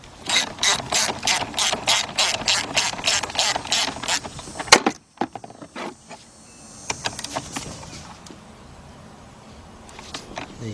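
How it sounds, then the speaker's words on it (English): A ratchet with a 13mm shallow socket tightening a bolt during alternator work on a Chrysler/Dodge/Jeep/Ram vehicle, a fast run of about fifteen loud, even clicks, a short pause, then a few slower scattered ratchet strokes close by. "Got our 13mm shallow socket. Put it up there. Let's tighten this up."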